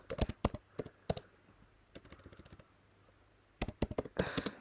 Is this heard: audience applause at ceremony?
no